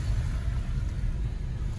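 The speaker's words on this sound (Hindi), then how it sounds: "तो भाई हमारी गाड़ी की वाटर क्रॉसिंग" A car crossing a shallow water stretch on a road gives a steady low rumble with a broad wash of splashing water noise throughout, fairly loud and continuous, with no voices.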